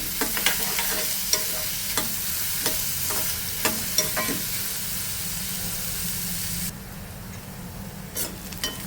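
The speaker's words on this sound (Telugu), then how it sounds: "మంచి గోల్డెన్ కలర్ వచ్చే వరకు ఫ్రై చేసుకోవాలి మీడియం ఫ్లేమ్లో పెట్టేది" Mutton kheema frying over a medium flame, a continuous sizzle punctuated by repeated sharp clicks of a spoon stirring against the pan, the hiss dropping lower near the end.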